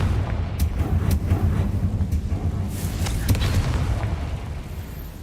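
A Confringo fire spell goes off in the Hogwarts Legacy video game, giving a loud booming explosion with a sustained rumbling roar and a few sharp bursts layered on top.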